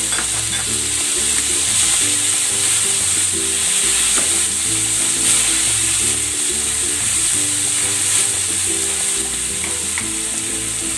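Tomatoes fry in a pan for a budget Filipino malunggay dish, with a loud, continuous close sizzle and a faint repeating rhythmic pattern underneath.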